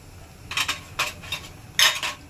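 Whole cumin, coriander and fennel seeds dry-roast in a hot pan, stirred close-up in a few short, scraping, clattery bursts over a quiet background with no talking.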